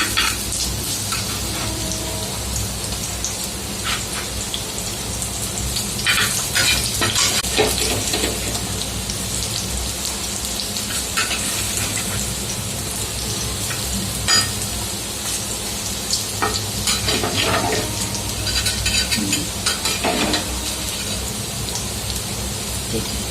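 Bhaji fritters cooking on a griddle over low gas, a continuous fine crackling sizzle like light rain, with occasional scraping taps as pieces are flipped one by one.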